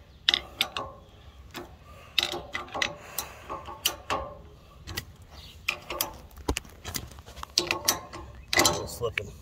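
A crescent wrench turns the hub nut on a trailer axle during a hub and bearing replacement, making repeated close metallic clicks and ticks in an irregular rhythm with occasional talk.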